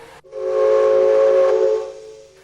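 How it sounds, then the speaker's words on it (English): A steam locomotive whistle on a British mainline engine, one loud, sustained steady blast of about two seconds that starts abruptly and tails off, close by and alone without talk. "Whistle and go."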